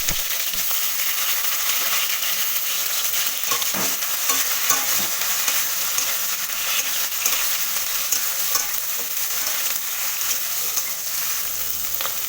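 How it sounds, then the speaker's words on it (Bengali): Cut eggplant pieces sizzle loudly in hot oil, a steady bright crackling hiss that lasts throughout, with occasional clicks and scrapes of stirring. "এবার আমি তেলের মধ্যে কেটে রাখা বেগুনগুলোকে দিয়ে ভালোভাবে ভেজে নেব।"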